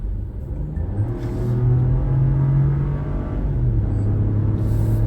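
A 2024 Buick Envista accelerating at full throttle, heard from inside: a steady engine drone that climbs in pitch, dips slightly, then keeps pulling, moderately loud and continuous with road rumble beneath.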